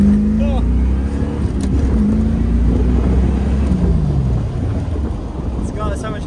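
A Lexus RC350 fitted with an axle-back exhaust accelerates, its steady engine drone rising in pitch across several seconds while people talk over it.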